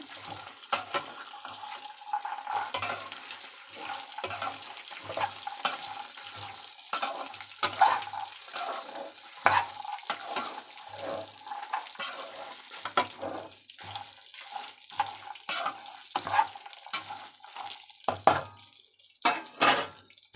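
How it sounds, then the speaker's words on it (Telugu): Bitter gourd and garlic frying in a pan for a spicy garlic bitter gourd dish, giving a steady close sizzle with crackles and pops throughout and no voices. "ఇప్పుడు ఇవి మాడిపోకుండా దోరగా ఫ్రై చేసుకోవాలండి"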